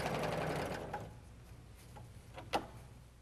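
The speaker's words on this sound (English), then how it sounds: "Lower the presser foot and start serging." Husqvarna Viking Huskylock 936 serger running in a brief burst at the start, a steady mechanical whir that fades out, followed by a few faint ticks and one sharper click near the end.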